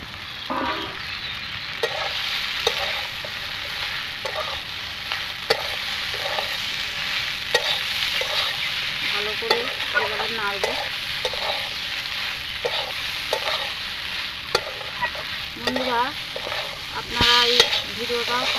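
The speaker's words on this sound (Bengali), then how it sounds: "এবার আমি পাস্তাটা ঢেলে দেবো" Pasta tipped into a pan for chicken pasta with Kashmiri chilli powder sizzles steadily while a utensil scrapes and stirs in repeated close strokes, with no talk.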